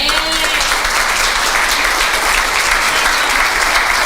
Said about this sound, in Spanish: Viviana quiere darle un aplauso al Señor.